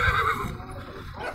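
A horse whinnies loudly and close by at a horse market in Chüy, with its neigh dropping off partway through while the general clatter and murmur of the market carry on beneath.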